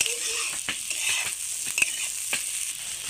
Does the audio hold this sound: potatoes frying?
yes